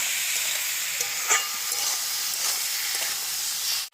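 Winter vegetables with turmeric fry in a pan for a Bengali fish curry, a continuous close, loud sizzle with the occasional stir clink, cutting off abruptly at the end.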